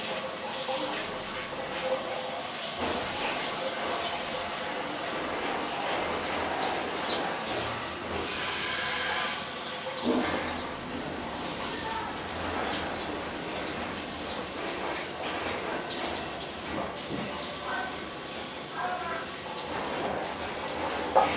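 A jet sprayer shoots water at a pan to rinse off stuck egg, producing a continuous hissing spray at moderate level throughout.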